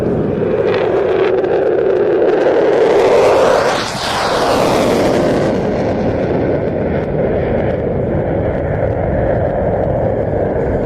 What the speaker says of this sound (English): from the left, the Royal Saudi Air Force F-15SA Eagle